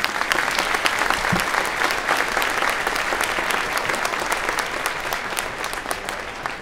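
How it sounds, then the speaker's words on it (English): A large audience at a school band concert applauds steadily, a dense close wash of clapping that holds at full strength throughout and tapers slightly at the end. "Big round of applause for those guys"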